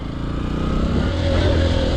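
A Honda XR150L motorcycle engine riding off-road, a loud, close, steady running drone with slight rises in revs over two seconds, no talk.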